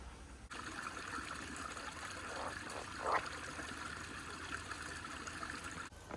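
Water trickling in a stream in a ravine on a nature preserve hiking trail, a faint, steady outdoor babble with a slight splashy swell midway.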